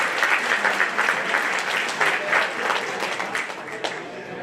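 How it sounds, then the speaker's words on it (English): High school audience giving one last round of applause at a ceremony honoring students, loud full clapping with a few sharper individual claps, easing slightly toward the end. "one last round of applause"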